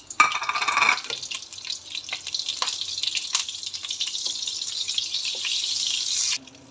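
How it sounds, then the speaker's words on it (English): Butter melts in a wok already coated with hot oil, a crackling sizzle rising right after it lands and settling into a steady, fairly loud frying hiss with small pops. "now in goes the butter"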